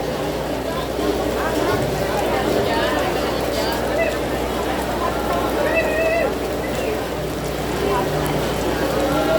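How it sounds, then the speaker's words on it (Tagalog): Heavy rain pours steadily at an outdoor vendor's stall, a dense even wash of drops on surfaces throughout, with faint voices in the background. "grabe ang ulan"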